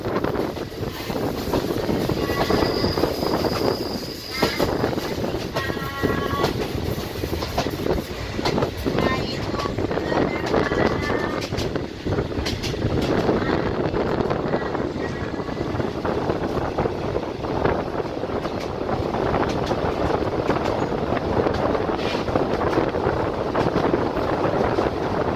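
A train travelling the mountain railway section toward Pak Chong rumbles and rattles continuously with wind buffeting, a loud, steady ride with faint intermittent squeals and some indistinct voices underneath.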